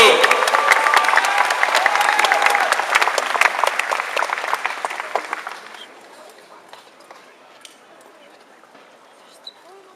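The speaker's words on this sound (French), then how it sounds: "On l'applaudit très fort, Japan Expo" Loud, thick audience applause for a Warhammer 40,000 cosplayer at the Japan Expo cosplay contest in France, with some cheering and a voice mixed in, thinning out and fading to scattered claps about halfway through.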